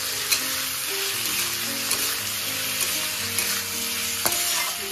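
Food frying in a pan for a Bengali meal of fish-head mung dal, stirred steadily with a loud, continuous sizzle and faint scraping, with no voices.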